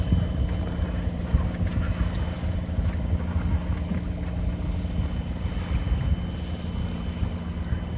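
A boat motors along under engine in light wind at sea near Cape Wrath, giving a steady low rumble with faint wind buffeting on the microphone and some water noise, with no voices.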